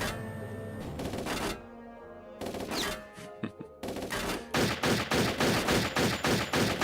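Enemy gunfire in the shooter Turok 3: repeated bursts of rapid automatic shots, close and fairly loud, separated by short pauses and a few scattered single impacts, with no talking.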